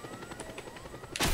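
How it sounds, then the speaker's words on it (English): A helicopter in the Just Cause 2 video game thrums with rapid rotor chopping, fairly close and steady, before a sudden loud blast-like burst at the end. "And there's the helicopter."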